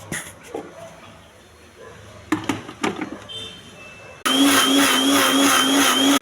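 A mixer grinder blends fresh coconut, cumin and chopped tomato into a paste, starting abruptly partway through as a loud, steady whirring drone that runs to the end after quieter handling noises.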